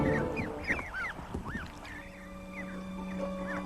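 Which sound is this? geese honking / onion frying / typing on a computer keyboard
geese honking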